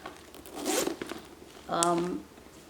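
The zipper on a Coach Christie Carryall leather bag is pulled in two quick runs, a short rasp followed by a longer ratcheting zip, close up with a voice speaking.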